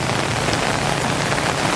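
Heavy rain pours down steadily during a flood in Malang, a dense, loud, unbroken hiss of water hitting surfaces up close.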